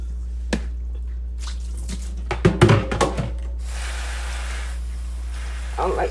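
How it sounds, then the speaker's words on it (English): Turnip greens with roots being washed by hand in cold water: splashing, drips and wet squishing, with a cluster of louder sloshes in the middle and steady running water underneath. "So you have to really wash turnips."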